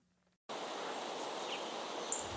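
Steady broadband rustling of wind moving through a barley field on a farm in County Kilkenny, continuous and fairly soft, with a faint bird chirp near the end.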